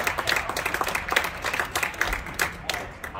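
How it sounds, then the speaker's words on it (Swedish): Applause and clapping ring out from spectators at the Alliance Cup padel final at Padel Royale, a dense, steady patter with sharp individual claps throughout, lasting a few seconds. "Lyssna in applåderna!"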